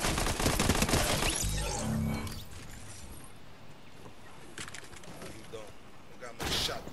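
Shotgun blasts in Fortnite, loud booming shots at the start and another burst near the end, with quieter game ambience between them and a player talking.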